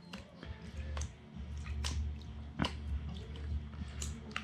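Paydirt being washed in a gold pan, water sloshing and splashing with scattered drips and gravel taps as the top layer is rinsed off, steady close-up swishing throughout.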